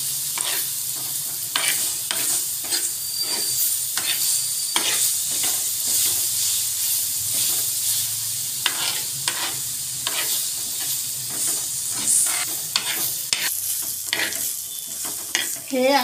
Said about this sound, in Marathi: हमेशा फिरवत राहावं लागते याला।